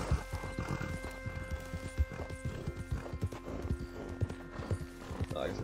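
Hooves of a horse clip-clop at a steady walking rhythm in the video game Red Dead Redemption 2, set among tobacco fields, the clops fairly close and moderately loud, with someone talking over them.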